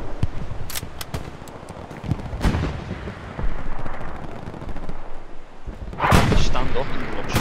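Sniper rifle gunfire in the World War II game Hell Let Loose, German side defending Utah beach on D-Day, with sharp cracks around 2.5 and 6 seconds over a constant battlefield din of distant shots and rumble.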